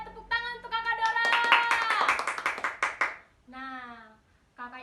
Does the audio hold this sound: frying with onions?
no